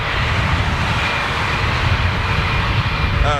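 Boeing 747 jet engines running on the aircraft's final flight, a loud steady roar with a deep low rumble, sustained and close without a break.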